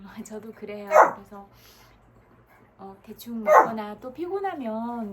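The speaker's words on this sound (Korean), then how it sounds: "우리 강아지가 뭐 할 말이 있나 봐" A small dog barks twice in short, sharp bursts a few seconds apart, close by, with someone speaking between and after the barks.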